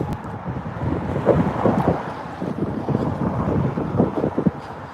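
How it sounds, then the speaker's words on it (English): Wind buffeting a microphone during a walk home on a windy day, a continuous loud rumbling roar with irregular gusts and no talking. "But we've got a little wind coming on here."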